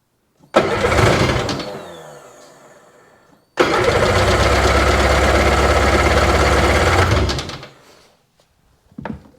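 A Seadoo RFI 787 jet ski engine struggling to start: a first cranking burst that fades, then a few seconds of loud, steady, rough running before it dies, with nobody talking.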